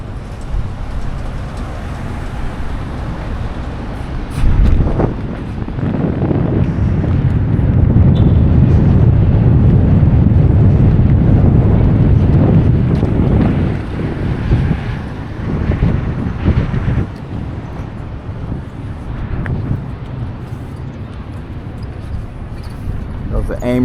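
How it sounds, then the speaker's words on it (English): Wind gusts outdoors in a small-town downtown street, where a city flag blows; steady, loud rushing buffets the microphone throughout, with a stronger surge midway, and faint voices beneath. "There's the Amory city flag blowing in the wind."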